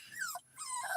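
A puppy whimpers and cries in two short, high, wavering whines with a brief gap between them, close by and clear, with no talk.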